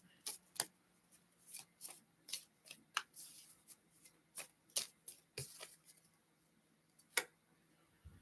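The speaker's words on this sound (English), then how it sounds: "So let me try shuffling that again." Tarot cards are shuffled by hand in a string of crisp, irregular riffles and taps, close and fairly quiet over a low steady hum.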